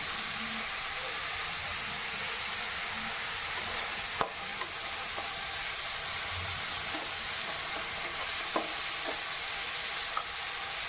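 Onions and green chillies fry in hot oil in a pan as a steady broadband sizzle, while a spoon stirs them with occasional soft clicks and scrapes; no voices.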